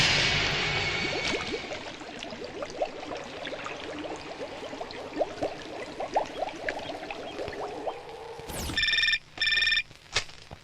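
A telephone rings in a tense film scene, its repeated electronic trill bursting in loudly near the end after steady background noise and movement.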